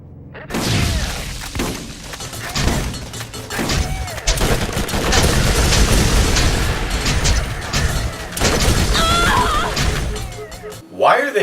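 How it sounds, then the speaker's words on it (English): Heavy gunfire and explosions in the video game Borderlands, with dense bursts of shots, booms and crashes running loud and continuous throughout. "Why are they shooting at us?"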